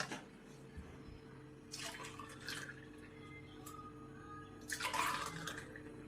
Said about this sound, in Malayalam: നമുക്കത് ഗ്ലാസ്സിലോട്ട് ഒഴിക്കാം